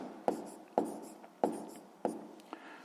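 Handwriting strokes of numbers during a math exercise, four firm taps or strokes spaced about half a second apart, each trailing off with a short scratch, close and clear with no talk.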